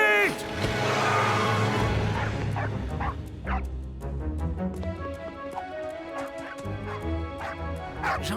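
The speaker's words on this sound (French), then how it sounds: "Gentil, le chien." A cartoon dog barks and whimpers in short yips, up close, over a steady music bed with background sounds, in a French-dubbed animated football series.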